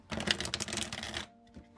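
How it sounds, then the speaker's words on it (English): Small, smooth-handling deck of cards being shuffled, a quick dense riffle of crisp papery flutters lasting about a second, close and fairly quiet, ending in a soft settle. "this is the nicest thing to shuffle in the world"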